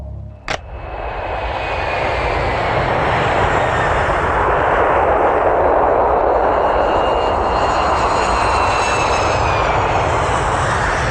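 Fixed-wing airplane engine roaring steadily, a loud continuous drone that swells after a sharp knock at the start and holds for about ten seconds, with no talking.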